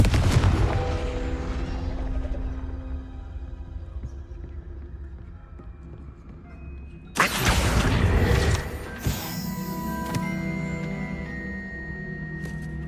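Confringo fire spell blast in the Hogwarts Legacy video game, a sudden loud explosive burst about midway that rings out over steady game music and ambience, followed by a smaller crackling impact.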